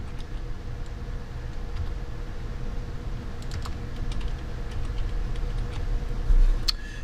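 Fingers tap on a computer keyboard, producing soft, irregular clicks that pick up in the second half, over a low steady background hum with no talking.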